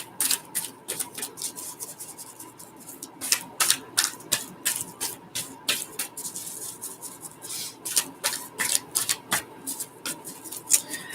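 Cards are shuffled in quick bursts of crisp flicking and riffling, repeated over and over at close range against a quiet background.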